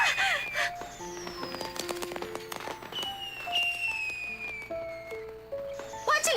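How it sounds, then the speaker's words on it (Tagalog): Crackling fireworks pop and burst repeatedly, with whistling streaks and sharp bangs overlapping throughout. "Fireworks sa ganitong oras?"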